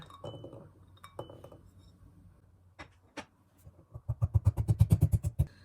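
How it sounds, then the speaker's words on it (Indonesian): Garlic is pounded in a small ceramic mortar, scattered clinks giving way to a quick run of about a dozen sharp, rhythmic strikes, close and clear with no talk. "Pertama-tama ya yang harus kita giling dulu itu bawang putih ya."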